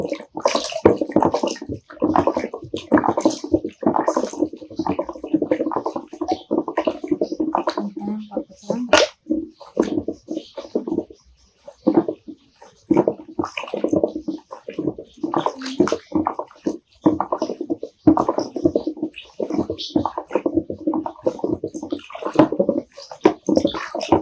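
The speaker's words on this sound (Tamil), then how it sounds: "50 மில்லி ஊத்திட்டு 5 லிட்டர் தண்ணி ஊத்திட்டு கலக்கணும்." Five litres of water are poured and stirred into homemade fabric conditioner mixed with thickener, making repeated sloshing, splashing bursts, near and loud, with a voice speaking over the mixing.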